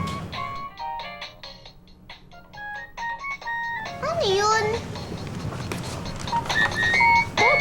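A mobile phone ringtone plays as a repeating electronic melody, clear and fairly close, before voices begin talking over it.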